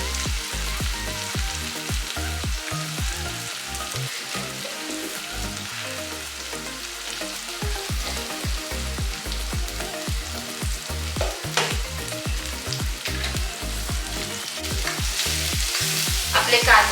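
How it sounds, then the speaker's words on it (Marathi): Fried onions and tomatoes with masala and salt sizzle in a pan while a spoon stirs them in quick repeated scrapes, close and steady, with no talking. "आपले कांदे टमाट्यामध्ये मीठ टाकून आपण याला चांगलं कालवलं आहे।"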